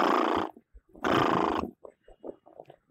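A horse in a Raj Comics Hindi horror audio drama gives two loud, drawn-out neighs, the second longer, followed by a run of short snorts and hoof-like knocks that trail off near the end.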